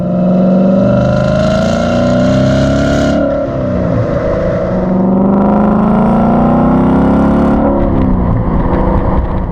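A 2015-2017 Mustang GT V8 with a Gibson 3-inch cat-back exhaust accelerates hard, its loud, continuous engine drone climbing and dipping in pitch through the gears, recorded up close with no pauses.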